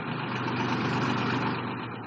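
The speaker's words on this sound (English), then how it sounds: "the engine run ahead and astern for at least 3 minutes" The engine of a freefall lifeboat runs steadily during testing, a loud and even mechanical rumble with no talking.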